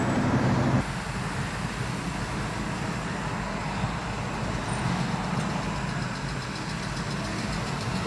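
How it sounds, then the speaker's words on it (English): Steady road traffic on a congested beltway heard from inside a vehicle: a constant low rumble of engines and tires with a continuous broadband hiss, no distinct passes standing out. "Stagnant traffic on this beltway."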